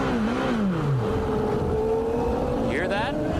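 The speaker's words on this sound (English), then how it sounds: "It broke as we were in car with Sullivan, under braking, and finally it coughs enough" A 1993 Chevrolet-powered IndyCar at the Texaco Havoline 200 race drones steadily and close, then its engine falters and coughs near the end as it fails under braking.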